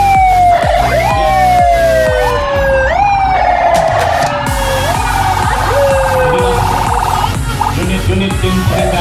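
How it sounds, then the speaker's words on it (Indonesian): Ambulance siren in a town development parade, its rising and falling wail loud and close, with several overlapping sweeping tones over street crowd noise. "Berikutnya ini adalah ambulan yang selalu mendampingi."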